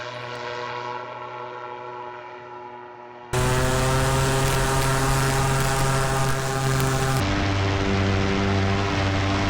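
A paramotor engine and propeller in flight near Pilot Mountain, a loud continuous buzzing drone with strong steady harmonics that jumps in intensity partway through and stays constant.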